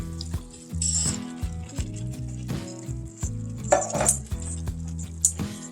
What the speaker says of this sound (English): let's stir in our artichoke hearts